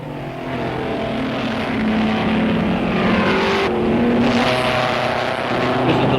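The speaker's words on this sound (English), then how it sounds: "the tiny Barclay is still chugging along with a win in the under 500 class a certainty" A tiny Barclay race car in the under-500 class chugs around the circuit at the 1959 Bathurst 100 Easter meeting, its engine droning steadily and fairly loud with a constant low rumble, no voices heard.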